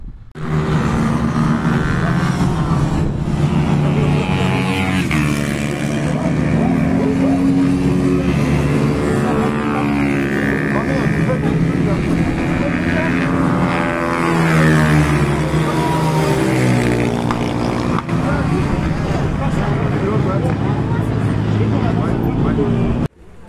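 Go-karts run at the Le Mans karting circuit, a continuous loud engine drone with rising and falling pitch as karts pass, under ongoing talk throughout.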